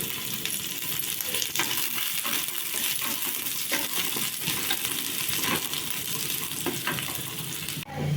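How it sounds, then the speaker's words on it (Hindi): Sliced onions fry in hot oil seasoned with panch phoron, a continuous close sizzle with occasional stirring clinks and scrapes, then a brief drop in the sizzle near the end. "एबे मु एथरे पियाज पकई देबी"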